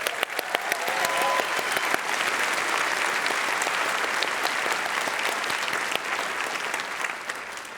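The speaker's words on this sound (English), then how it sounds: "Can we get another round of applause?" A conference crowd applauds award winners with sustained, dense clapping that holds steady for several seconds before easing slightly at the end.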